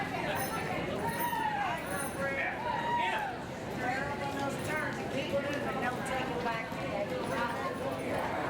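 Roadster horses trot under saddle around a show ring at the World's Championship Horse Show, their hooves producing a steady rhythmic clip-clop beneath a public-address announcer and crowd murmur.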